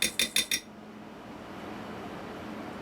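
A metal spoon clinks four quick times against a bowl of fermented macaroni salad, then fades into quiet room tone.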